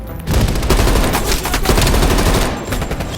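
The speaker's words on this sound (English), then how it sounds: "Heavy MG on the ridge!" Heavy machine gun fire in Call of Duty: Black Ops Cold War, a loud, continuous rapid burst of shots lasting throughout, with dense battlefield noise and no pause.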